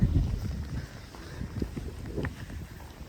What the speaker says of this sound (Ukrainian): Вітрюган дує від дамби.